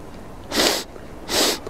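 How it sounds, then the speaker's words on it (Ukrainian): Two sharp, breathy sniffs through the nose, evenly spaced, close to the microphone with quiet in between. "Не шморгай носом"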